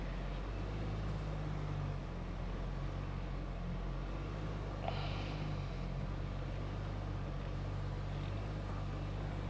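Ford Bronco Sport Sasquatch Package with a turbocharged inline three-cylinder engine crawling off-road at steady throttle, a low continuous engine drone with faint rumble and a brief knock near the middle, no talking.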